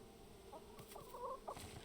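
Chickens clucking in the survival video game Rust, a few short soft clucks and squawks over a quiet steady background hum, faint and alone without speech.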